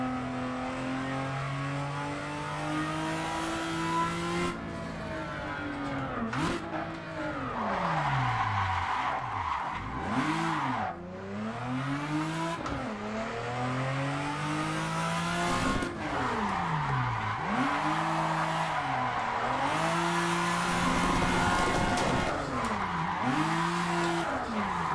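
A Toyota Supra drifts in the Assetto Corsa racing game, its engine revving up and down in sweeping waves while tyres squeal and skid continuously, loud and steady throughout.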